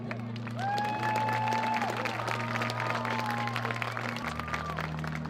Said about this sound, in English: Let's give a round of applause for our 2025 Homecoming Court.